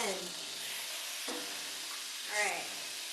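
Seasoned chicken sizzles as it is laid into a hot pan, giving a steady close frying hiss with a sharper burst near the start and brief voices cutting in twice.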